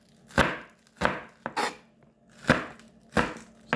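Knife chopping onions on a cutting board, six crisp separate chops in an uneven rhythm, close and clear with no talk.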